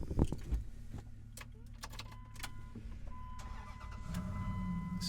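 A used government auction truck cranks and starts up, a short burst of starter and ignition followed by a steady mid-pitched engine idle, with a few light clicks and rattles near the start.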